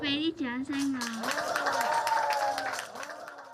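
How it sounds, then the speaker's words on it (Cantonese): An audience claps for a child comedian at a Hong Kong children's stand-up comedy class. A voice comes first, then a steady patter of applause rises and runs under continued talk before thinning out. "大家可唔可以俾啲掌聲我？"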